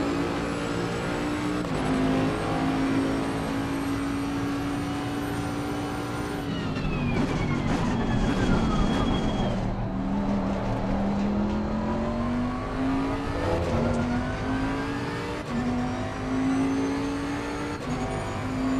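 Race car engine in Assetto Corsa Competizione revs high and steady, drops through a downshift around a corner, then climbs again under acceleration, loud and continuous.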